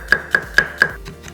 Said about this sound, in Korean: 콩마늘 3개는 다져서 준비했다.